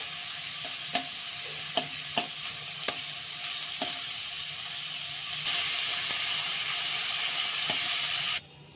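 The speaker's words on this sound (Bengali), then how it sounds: "চিংড়ি মাছগুলো আমি এবার ভেজে নিচ্ছি।" Prawns frying in hot oil in a pan for a prawn curry, with a steady close sizzle punctuated by sharp spatula taps, then a louder hiss for a few seconds before it suddenly cuts off.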